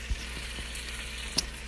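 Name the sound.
sauce sizzling in pan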